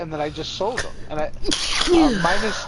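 A single sharp sneeze bursts out close to the mic in the middle of a casual PS4 live stream, with a man chatting right before and after it.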